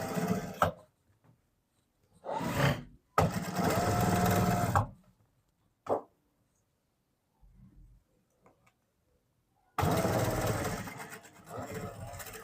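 A sewing machine stitches a collar band, running in three bursts of steady whirring with quiet pauses and a brief click between them, close and fairly loud.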